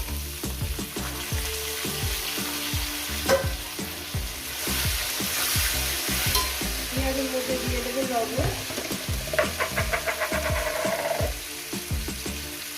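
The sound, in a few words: whole garam masala, cumin, bay leaf and onions frying in oil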